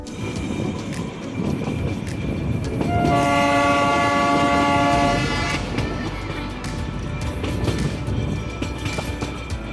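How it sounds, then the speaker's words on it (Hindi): The Darjeeling toy train runs with a steady rumble and rattle while its horn blows one long, harmonic-rich blast of about two seconds, heard from on board. "काफ़ी तेज गति से चल रही है हमारी ट्रेन"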